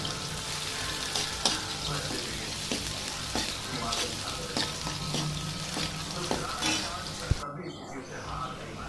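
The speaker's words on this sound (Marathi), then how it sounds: "कांदा परततोय आता त्याच्यात" Onion sautéing in oil with cumin and mustard seeds, a broad steady sizzle with periodic spatula taps and scrapes against the pan, close up, ending with a sharp knock and a brief drop in the frying noise.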